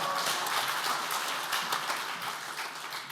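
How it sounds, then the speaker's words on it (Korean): A church congregation at a men's mission officers' prayer meeting gives steady, sustained applause to welcome the pastor, an even wash of many hands clapping throughout at moderate distance with no talk. "할렐루야로 하나님께 영광 돌리며 박수로 환영하겠습니다"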